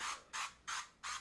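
Four quick, evenly spaced hissing bursts from the pump sprayer of a Pat McGrath Labs Glass 001 setting spray bottle, each a close, bright mist spray separated by short pauses, with no talk.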